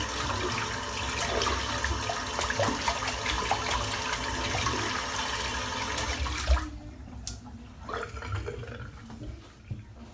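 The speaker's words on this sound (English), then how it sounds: "Rinse the soap out." Tap water runs steadily as soap is rinsed from a shaving brush, then the flow cuts off and quieter splashes and drips follow.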